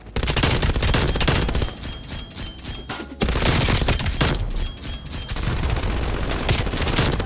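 Sustained rapid fire from an MG 82 machine gun in a video game, loud and dense, rattling on almost without a break with brief dips in intensity and overlapping shots.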